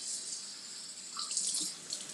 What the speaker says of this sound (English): I just rinse it under water